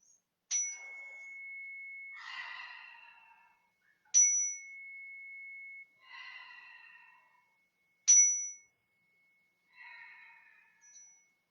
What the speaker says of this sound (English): as we close with 3 breaths together with the chimes